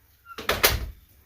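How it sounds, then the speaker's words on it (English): An indoor house door is pushed shut, giving a soft swoosh followed by two close thuds of the latch and frame, fairly quiet in a still room. "I'm going to just shut the door."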